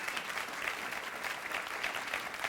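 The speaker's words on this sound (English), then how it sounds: "you can applaud" A congregation claps at a Memorial Day church service, a steady, dense wash of applause from many hands filling the room at even loudness, with no voices standing out.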